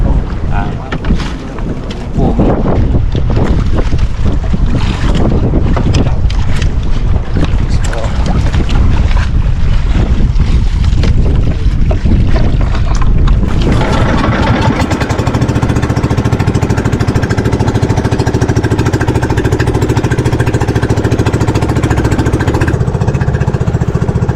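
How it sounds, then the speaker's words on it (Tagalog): Strong wind at sea buffets the microphone in loud, continuous roaring gusts, with a boat engine droning underneath. "lumakas ang hangin biglang nag-amihan"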